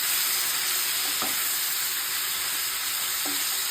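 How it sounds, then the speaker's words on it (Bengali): Marinated chicken for a burger fries in hot oil, giving a constant dense sizzle and hiss at close range, with a couple of faint knocks and no voices. "সবাই দেখতেই পাচ্ছেন আমি এখানে ভাজতেছি"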